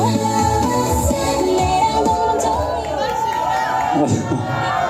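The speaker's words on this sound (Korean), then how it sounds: "큰 박수로 모시겠습니다." An outdoor candlelight protest rally in front of the Supreme Court at Seocho Station greets a reporter with crowd cheering and shouts, and voices and amplified tones ring over the continuous noise.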